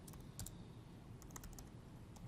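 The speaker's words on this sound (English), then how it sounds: "my typing is so bad" Quiet, rapid typing on a computer keyboard, with soft irregular key clicks in short bursts and no voices.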